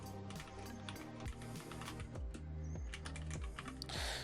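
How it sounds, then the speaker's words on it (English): A computer keyboard clatters with rapid, uneven keystrokes as someone types a search, the clicks close and fairly quiet, with music playing underneath. "I'll just type Nintendo subscription."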